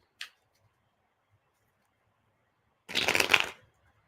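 A quick flick of tarot cards, then after a pause a short burst of riffle shuffling, close and crisp in an otherwise quiet room.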